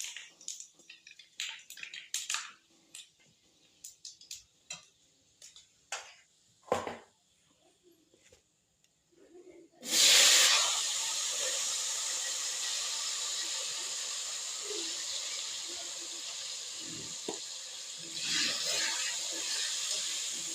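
Scattered faint crackles and pops give way to a sudden loud sizzle as potatoes and flat beans meet hot oil with five-spice seeds, the frying hiss holding steady, then surging again near the end.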